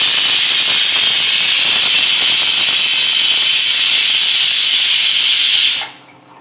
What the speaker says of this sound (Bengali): আর একটা সিটি পড়ে যাক, তাহলে ডালটা সেদ্ধ হয়ে যাবে।